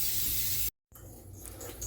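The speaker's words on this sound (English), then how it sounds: "I'm going to take my baking spray and spray the bottom of these 4 pans." A can of baking spray hisses into four round cake pans in two close bursts separated by a short pause, the sharp spray sound loud and near.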